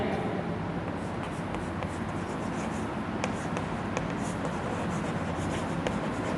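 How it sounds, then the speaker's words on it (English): Steady writing on a board while working through a sequence and series algebra exercise, with continuous scratchy strokes and small taps running throughout at moderate loudness, close by, with no talking. "So I am writing"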